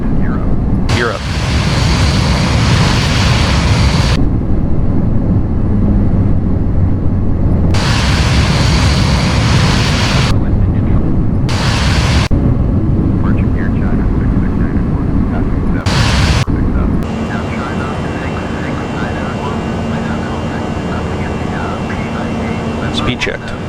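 Airliner engines roar loudly and steadily in a continuous broadband rush during the climb after takeoff, with the gear coming up, while voices call out briefly over the noise.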